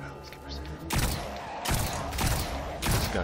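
Several loud bursts of gunfire from a weapon in Destiny: Rise of Iron, each a heavy boom with a long rumbling tail, spaced about a second apart.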